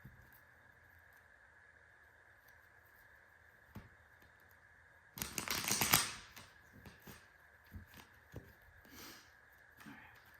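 A tarot card deck is shuffled in a quiet room, giving one brief, crisp riffling burst midway through, with faint scattered handling clicks before and after.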